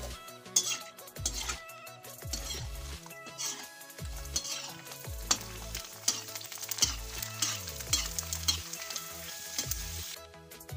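Pani puri fry in a pan over a steady, moderately loud sizzle and crackle of oil, with repeated metallic scrapes and clinks of a utensil against the pan and no voices.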